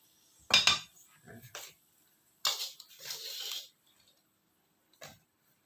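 Chilies are moved into a teflon pan over a very low flame, with a few clinking, scraping clatters of utensil against cookware separated by quiet pauses, close and fairly soft.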